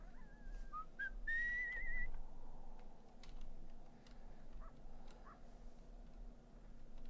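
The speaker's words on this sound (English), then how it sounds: "Hold left control to whistle." A player character whistles a short run of rising and wavering notes early on in the video game Where the Water Tastes Like Wine, set over a steady low ambient bed with faint clicks.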